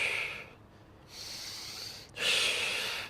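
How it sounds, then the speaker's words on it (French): Sharp inhales through the nose come during a triceps exercise, two distinct close breaths separated by a short pause, with no talking. "5 reps où j'inspire par le nez"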